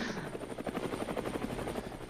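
A helicopter in the VR battle royale game Standout VR thrums with rapid, steady rotor chop, close and continuous throughout with no talk over it.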